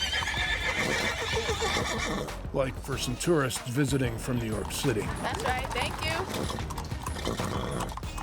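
Horses ridden by a group of cowboys in California neigh loudly and their hooves clip-clop steadily at close range, while people talk over and between the sounds.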